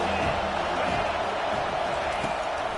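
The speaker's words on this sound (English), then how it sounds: "how nice is it to have the home crowd going absolutely bananas?" A home crowd at a football game roars in a steady, dense wash of cheering that fills the whole moment without pause, loud and enveloping.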